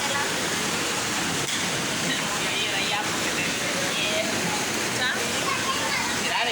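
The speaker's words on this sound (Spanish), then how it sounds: "esa es la parte donde está la cascada" A waterfall spilling into a deep swimming pool gives a constant, dense rushing roar that fills the whole stretch without pause.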